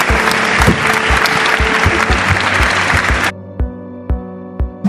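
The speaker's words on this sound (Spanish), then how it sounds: "un gran aplauso para los candidatos" Audience applause for candidates at a parliamentary forum, a loud dense burst of clapping over a steady low rhythmic thump, breaking off abruptly after about three seconds and leaving only the repeating beat and a sustained tone.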